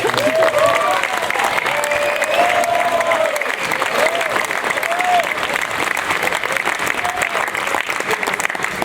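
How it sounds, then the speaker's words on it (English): Steady, loud applause from a commencement audience at the Webb School of California fills the whole stretch, dense and sustained with a few cheers rising above the clapping. "can we please give 219 a round of applause for that?"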